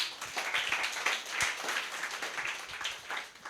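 Congregation at a Sunday church worship service clapping together, a steady patter of many hands over three and a half seconds with no one speaking.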